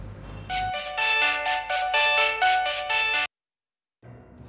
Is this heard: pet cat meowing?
no